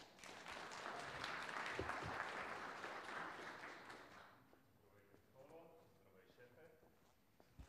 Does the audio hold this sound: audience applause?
yes